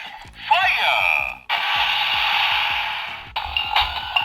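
A Lupinranger Patoranger DX toy plays an electronic looping sound effect: a chirpy synthetic tone with a rising sweep, a steady repeating beat underneath, then a sustained buzzing burst and a few short electronic blips, fairly loud and close.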